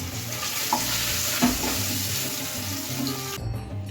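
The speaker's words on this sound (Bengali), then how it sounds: "মাছগুলোকে ভেজে নিয়েছি, এবার হচ্ছে তুলে নেব" Fish frying in hot oil in a pan for doi ilish, giving a steady close sizzle with scraping and stirring clatter throughout, cutting off near the end.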